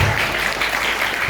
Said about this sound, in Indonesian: jangan terlalu kuat untuk tepuk tangan ya, karena di dalam masjid